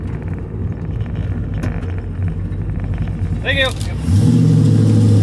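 A 5.3 LS-swapped third-generation Camaro with Holley Sniper EFI rumbles at idle under background noise, then a sharp squeal cuts through and the engine settles into a louder, steadier low drone; a brief spoken thanks is heard.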